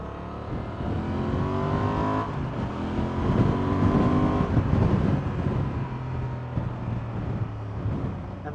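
A 2024 Honda Transalp 750 motorcycle's engine, air intake and stock exhaust drone steadily while riding, with the revs rising and falling under some wind rush.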